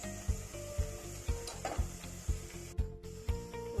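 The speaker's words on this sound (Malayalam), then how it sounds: "അതിലേക്ക് ഈ എണ്ണയിലേക്ക് തന്നെ നമുക്ക് കുറച്ച് ഉള്ളി വറുത്തെടുക്കണം." Onions frying in oil in a pan as part of a chicken biryani, a steady close sizzle broken by a regular rhythmic scraping stir about every half second, with no voices.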